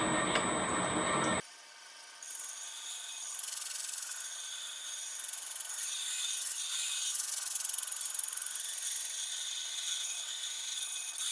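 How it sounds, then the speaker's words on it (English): Continuous abrasive grinding as an edge is ground down on a kiln-work piece, a steady rough hiss that runs from just after the start to the end, close and fairly loud with no talk. "I've got a nice level side, and I started, and I'm going to grind this edge down."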